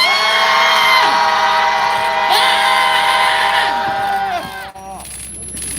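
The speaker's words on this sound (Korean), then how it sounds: "청와대를 향해 분노의 함성 시작!" Protesters at a press conference about abolishing the abortion law shout a long, loud, sustained roar together toward the Blue House. The sound stays intense for several seconds, then breaks off and drops to quieter murmuring.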